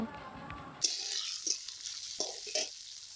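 Green beans frying in a pan, a soft sizzle broken by several clatters of stirring, heard up close with no talk.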